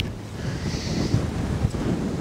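Strong wind gusting across open water at a fishing spot, a steady roar of wind buffeting the microphone with rumbling low noise and no talking.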